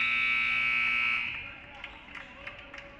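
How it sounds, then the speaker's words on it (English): A basketball game buzzer at the end of a quarter in a boys high school game sounds as a loud sustained electronic tone for about a second, then cuts off, leaving gym crowd noise and scattered voices. "and we're going to hear the buzzer."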